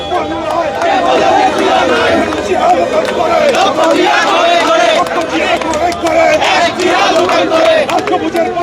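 Street protest crowd chanting slogans in front of a press club, a loud dense mass of voices shouting together continuously, rhythmic and close, with background chatter.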